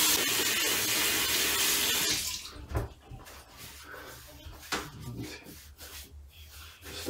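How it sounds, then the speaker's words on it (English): Warm tap water runs from a faucet to wet hair, a loud steady gush for about two seconds before it stops, followed by quieter wet rubbing and handling sounds. "So I like to wet my hair with a bit of warm water first if it's totally dry."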